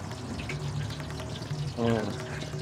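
Heated Gold Sun oil is poured for frying at a snack eatery making mirchi bajji, a short liquid pour that swells near the end while someone talks over it.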